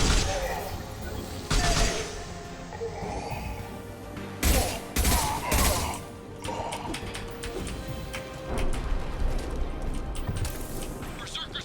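Gunfire in the video game Mass Effect 2, with sharp bursts and shots scattered through a busy battle mix, mostly under people talking.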